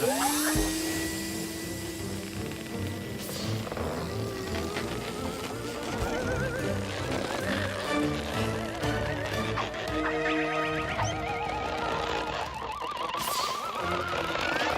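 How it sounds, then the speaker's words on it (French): Cartoon robot blowing air through a hose into a valve: a steady, loud whooshing rush of air runs throughout, layered with rising squealing tones and whinny-like effects. "Il faudrait que tu utilises ton tuyau pour souffler de l'air dans cette valve."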